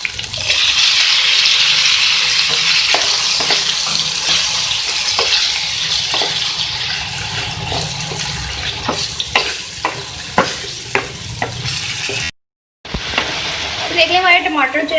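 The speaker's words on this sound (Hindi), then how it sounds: "मैं अदरक लहसुन को फ्राई कर रही हूँ ऑयल में" Ginger, garlic and tomatoes frying in oil for a karela karahi, a loud continuous sizzle with repeated stirring clicks of a spoon, then a brief cut and renewed crackling.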